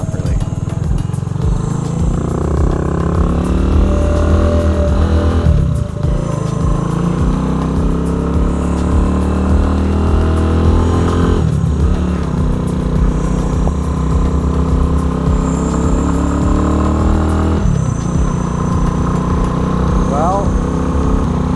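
A mini motorcycle engine runs steadily and loud throughout, with a few throttle blips and revs rising and falling, while a person talks over it.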